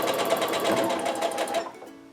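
Sewing machine stitching a quarter inch seam, a rapid, even mechanical chatter close by that runs steadily and then stops.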